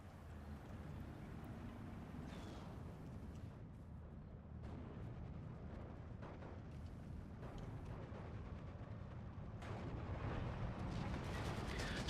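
Anti-tank gun fire and battle rumble fill a Steel Division 2 match, a dense low roar of booming shots and explosions layered continuously with scattered sharper cracks throughout.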